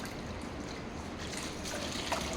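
Lukewarm water trickles and splashes steadily while a dog is bathed, a continuous close liquid pour with no speech over it.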